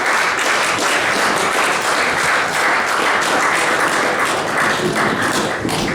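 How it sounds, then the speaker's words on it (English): A large audience claps steadily at a senior presentation night, dense and loud applause sustained evenly throughout. "So give yourselves a big round of applause and a clap on the back."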